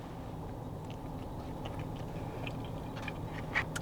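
Chewing meat coated in a tangy onion sauce: close, soft mouth sounds and moist bites with occasional clicks, quiet and steady, no talking.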